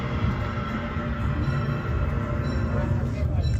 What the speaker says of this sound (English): the train is just going very slow now.